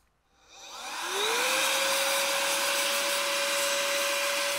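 An electric air duster, sold for cleaning keyboards, spins up with a rising whine and then settles into a loud, steady rushing blow with a constant high motor tone, heard alone.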